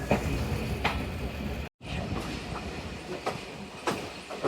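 Shalimar Express passenger train running steadily just after departing Sangla Hill station in Pakistan, with continuous rail rumble and periodic clickety-clack wheel beats close by, broken by a brief silent gap.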